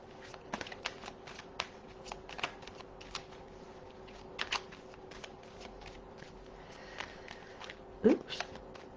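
Tarot cards are shuffled close by in a series of quick papery riffles and taps, with scattered clicks and a brief louder rustle near the end.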